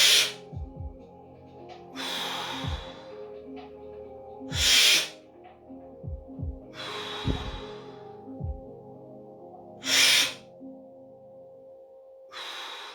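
Breathwork exercise with deep, audible exhalations, several strong breathy bursts spaced a few seconds apart over quiet background with faint low thumps between them.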